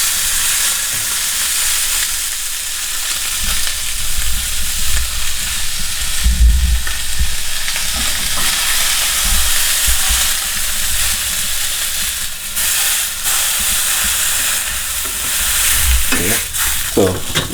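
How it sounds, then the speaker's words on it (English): Beef fillet steak sears in a hot pan with a steady, close frying sizzle, broken by occasional stirring and scraping knocks and a few brief louder pops, with no talking. "we sauteed both sides for about 2 minutes"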